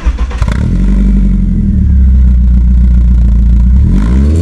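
A BMW 3 Series E36 engine starts with a few rough bursts, then settles into a loud, steady, deep drone close by, with the revs holding nearly constant before dropping slightly near the end.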